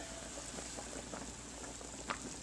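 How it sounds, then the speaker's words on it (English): Veal tongue boils in a lidded pot at a medium-high rolling boil, a steady soft bubbling and burbling held low and even throughout, with no voice. "there you can see the tongue is boiling in there"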